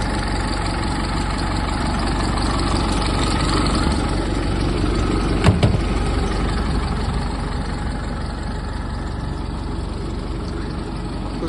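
A 2013 ADL Enviro E200 bus with a Cummins ISB4 diesel idles steadily up close, a constant low rumble with a brief knock midway.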